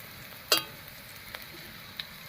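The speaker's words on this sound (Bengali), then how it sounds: "এবার এর মধ্যে দেবো এক চামচ কালো জিরা" A spoonful of black cumin seeds (kalo jeera) hits hot mustard oil, giving a faint background sizzle with a sharp clink or crackle near the start and a few softer ticks after.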